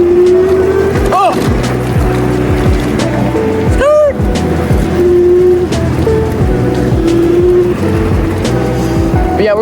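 A Ridstar Q20 electric board and a Onewheel ride outdoors across a field, giving a loud continuous rolling whir with wind buffeting and motor hum rising and falling in pitch, plus a couple of brief sharp whines.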